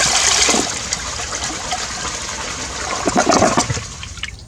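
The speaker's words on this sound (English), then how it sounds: "Let's give it a flush." A newly installed toilet flushes with six golf balls in the bowl, a loud rushing gush of water that swirls and drains over several seconds, then trails off into gurgling as the bowl refills.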